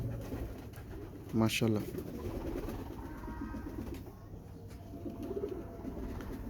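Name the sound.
Rampuri pigeons cooing at pigeon market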